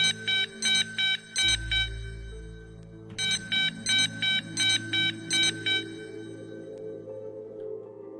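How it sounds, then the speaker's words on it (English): Electronic beeping from the Starship Titanic video game when trying to lock a coordinate: two bursts of rapid, evenly spaced high tones, five pulses then a short pause and six more, over a low steady hum. "I always get the same beeping noise when I try to lock a coordinate."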